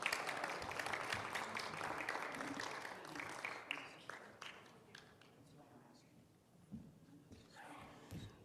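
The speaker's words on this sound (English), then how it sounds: "Let's give them a hand of applause." Church members applaud newly elected officers, a room of clapping that starts full and gradually thins and fades to scattered claps, with voices murmuring underneath.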